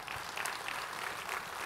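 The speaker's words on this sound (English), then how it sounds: "go ahead and clap" Applause from an audience at the Avon Connect 2024 event, dense rapid clapping held steady and fairly close throughout the short stretch with no voices on top.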